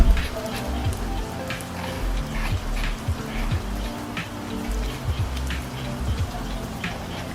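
Steady rain falls in rainy weather, a dense continuous patter with scattered sharper drips and ticks standing out, moderately loud and even throughout, with no talking.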